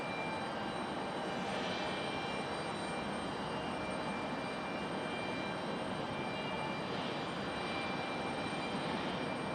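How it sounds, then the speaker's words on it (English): A Delta A320 jet airliner sits at the end of a runway at Raleigh-Durham airport in stormy weather, its engines giving a steady broadband roar with a faint whine, constant and at a moderate distance. "Delta 1319 still sitting out there at the end of the runway, getting ready to make their way out on the runway"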